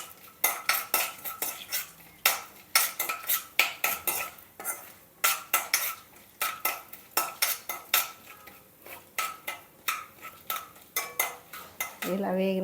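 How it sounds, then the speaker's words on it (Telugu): Whole spices frying in a pan for a stuffed brinjal curry, stirred with a metal spoon that strikes and scrapes the pan in a quick irregular rhythm over a faint sizzle, close up and without speech. "కొంచెం మసాలా దీంట్లో దినుసులన్నీ కొంచెం బ్రౌన్ షేడ్ వచ్చేటట్టు వేపుకుందాం."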